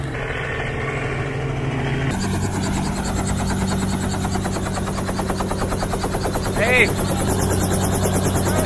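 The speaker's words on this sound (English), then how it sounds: "That's the helicopter that's going to drop Santa." Steady rhythmic thumping of a helicopter's rotor drones loudly and draws closer, with a brief voice calling out partway through, as the helicopter carrying Santa arrives in Puerto Rico.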